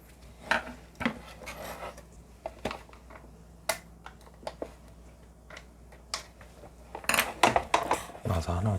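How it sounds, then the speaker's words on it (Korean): A small screw being worked loose from the side mirror folding motor of a Hyundai Ioniq Hybrid, close metallic clicks, scrapes and taps in scattered bursts, busier toward the end, with occasional faint talking. "나사 하나 되게 안 빠지네요"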